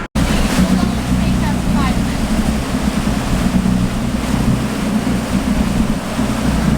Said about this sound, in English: here's our boat